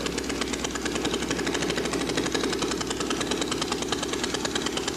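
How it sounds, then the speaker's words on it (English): A little 5 horsepower Briggs & Stratton single-piston engine runs close by, a fast, even chugging pulse that holds steady throughout, with no voices. "This is a little 5 horsepower Briggs & Stratton single piston, but it works exactly the same way any internal combustion engine works."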